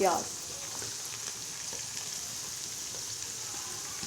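Four onions fry in a pan, giving a quiet, steady sizzle with light crackles throughout after a brief louder clatter at the start.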